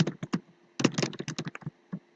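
Typing on a computer keyboard, a close run of quick key clicks in two bursts separated by a short pause, with no talking.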